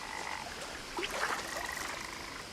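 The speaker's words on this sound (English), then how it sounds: "Where's that frog? I want to catch the frog." Frog croaking in the video game What Remains of Edith Finch, a few rasping calls over a steady outdoor ambience, moderately close and with no talk.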